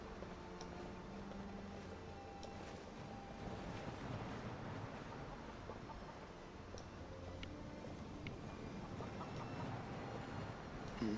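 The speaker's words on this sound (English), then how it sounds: "The birds." Fowl cluck softly and intermittently in Skyrim's College of Winterhold area, faint and distant over a low ambient background, with no one speaking.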